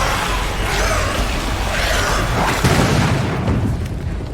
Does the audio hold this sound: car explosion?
yes